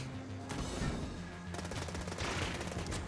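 Rapid bursts of gunfire in the video game Enter the Gungeon, dense repeated shots with a short break before a longer sustained volley, fairly quiet in the mix.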